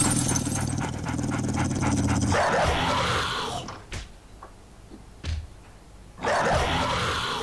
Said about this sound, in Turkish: Köpek sesi duyuyorum.